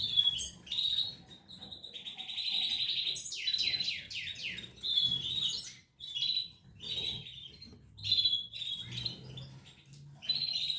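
Hungry baby birds chirp insistently for food, a dense nest of high, rapid begging calls in repeated bursts, close to the microphone with short pauses between volleys.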